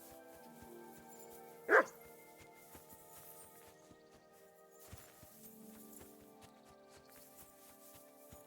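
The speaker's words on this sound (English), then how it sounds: "Barking." A dog barks once in Kingdom Come Deliverance 2, a short sharp bark at a distance over quiet game ambience and a steady low musical drone, with faint clip-clop ticks following.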